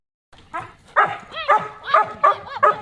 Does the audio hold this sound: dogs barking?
yes